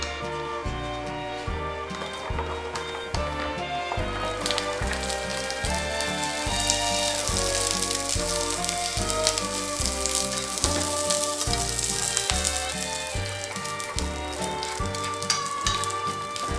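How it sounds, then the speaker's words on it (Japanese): Malabar spinach stems stir-fry in sesame oil in a pan, giving a steady, dense sizzle heard over rhythmic background music throughout. "フライパンにごま油をひいて、先につるむらさきの茎を炒めます。"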